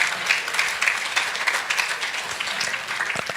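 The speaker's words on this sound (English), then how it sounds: "let's give him a round of applause" Applause from a small audience for a man playing Santa Claus, a brisk patter of many hands clapping at moderate loudness for a few seconds.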